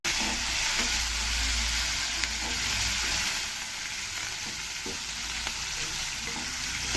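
Onions, green chillies and curry leaves sizzle steadily in hot oil for upma, a continuous close frying hiss with occasional stirring scrapes throughout.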